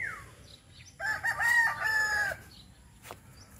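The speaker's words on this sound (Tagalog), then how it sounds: "dumadami yung chicken natin na iba-ibang lahi" On a farm with a mixed-breed chicken flock, a rooster lets out a single clear crow lasting just over a second, at moderate distance, over faint background noise.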